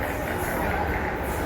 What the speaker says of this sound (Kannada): ಟ್ರೈನ್ ಬಂತು.